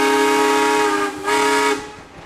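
A Gaar Scott steam engine at a pioneer days show in Rushville, Indiana blows its whistle in a loud, sustained chord-like tone, dipping briefly mid-blast before sounding again and fading.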